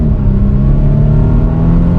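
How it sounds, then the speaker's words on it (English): The turbo four-cylinder engine of a 2022 Volvo XC90 T6 SUV hums with a steady, low droning exhaust note, loud and close, holding a fairly even pitch for a couple of seconds. "I also really like the exhaust note as well."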